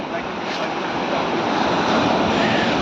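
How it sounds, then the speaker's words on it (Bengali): Large Atlantic Ocean waves roll and break on the shore in a steady, broad roar of surf that swells slightly toward the end, loud and unbroken, with wind buffeting the microphone. "আজকে অনেক বড় বড় ঢেউ আসবে, দেখেন।"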